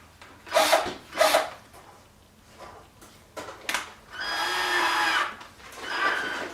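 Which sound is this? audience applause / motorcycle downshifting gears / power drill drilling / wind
power drill drilling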